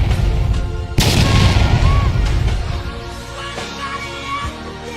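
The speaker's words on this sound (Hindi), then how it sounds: "कागाया वाकई में एक बड़ा खतरा है क्योंकि उसने एक जाल बिछाया था जहां वह खुद को और अपने पूरे परिवार को उड़ा लेता है।" A mansion is blown up in an anime, a sudden loud booming blast with a crackling, rumbling tail that fades over several seconds, set against background score.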